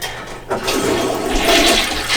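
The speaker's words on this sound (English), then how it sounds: "so I'm gonna flush it" A toilet flushes after its bowl has been scrubbed clean under the rim. The flush is a close, loud rushing of water that builds after a brief quiet start and keeps going steadily.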